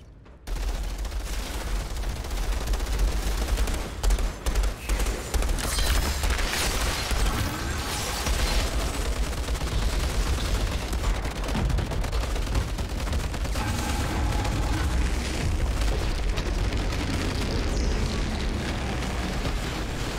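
Gunfire in the Outriders Worldslayer video game, dense bursts of rapid shots and booming impacts rolling on without pause, loud and close over a heavy low rumble.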